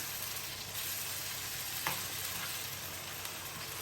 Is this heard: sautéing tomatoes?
yes